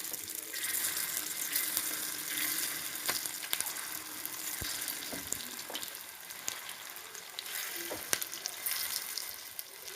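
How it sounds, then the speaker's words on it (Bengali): Chana tikka fries in hot oil over a very low flame, giving a continuous crackling sizzle with scattered sharp pops and spatters throughout, close and fairly loud. "খুব সাবধানে ছানা টিকাটা ভাজতে হবে"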